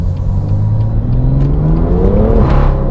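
Engine of a BMW M2 with an overboosting variable vane turbo revs up loudly and close, pitch climbing steadily under load before dropping sharply as the throttle lifts.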